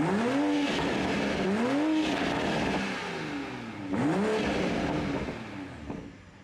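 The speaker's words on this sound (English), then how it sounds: "This car, a B58, doesn't normally sound this good when you get a 340, but on the Supra, it sounds insane" A Toyota Supra MK5 A90's B58 engine revs hard in repeated rising sweeps, loud and close, dropping back between pulls with a raspy, aggressive exhaust note.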